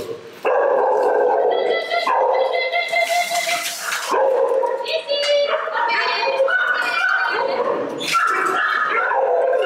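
Shelter dogs at a Thai rescue bark, yip and whine loudly and close at feeding time, a continuous overlapping chorus of many dogs.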